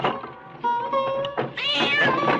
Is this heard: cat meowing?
yes